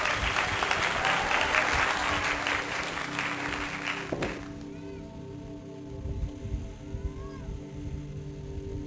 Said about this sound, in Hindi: सभी ने ताली देके प्रेरित करें।